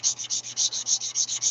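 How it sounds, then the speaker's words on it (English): Hand sanding of a katana blade before clay-up at a forge, steady back-and-forth rubbing strokes, about ten even passes in quick rhythm, close and clear with a low hum underneath. "at the point of hand sanding"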